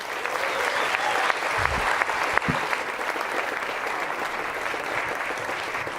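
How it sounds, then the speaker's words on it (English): Steady applause from a conference crowd, a dense wash of clapping that holds at an even level throughout with no pauses. "Please, applause."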